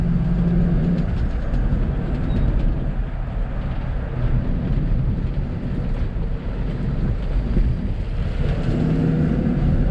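A 1986 Ford F150 pickup carrying a load in the bed drives at modest speed, heard from inside the cab as a steady loud engine drone mixed with road rumble and rattles, with no talk.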